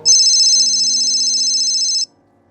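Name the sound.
muffled phone ringing behind a wall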